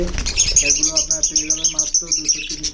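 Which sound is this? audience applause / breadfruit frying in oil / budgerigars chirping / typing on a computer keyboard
budgerigars chirping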